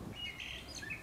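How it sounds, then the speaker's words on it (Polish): Small birds sing in a flower garden in the late afternoon, giving faint, thin, high chirps and short whistles over a quiet outdoor background. "Ptaszki śpiewają, kwiaty obficie kwitną"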